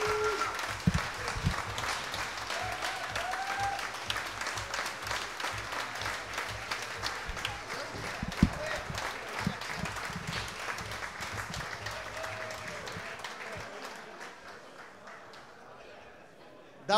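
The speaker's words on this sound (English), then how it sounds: "There's a big round of applause to both competitors." Audience applause after an MMA fight, sustained clapping and crowd noise throughout that fades toward the end, with a commentator talking over it.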